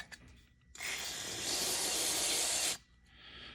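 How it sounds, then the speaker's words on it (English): Mass airflow sensor cleaner sprayed from an aerosol can onto the sensor of a 2005 Lexus LS430, one steady close hiss lasting about two seconds, alone. "So we'll take the mass airflow sensor cleaner, which is designed for this job."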